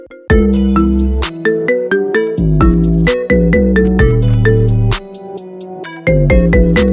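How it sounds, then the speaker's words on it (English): A bright iPhone ringtone plays a marimba remix, a loud, repeating melody of crisp synthetic tones in a steady rhythm, alone and close. "Set as your ringtone today."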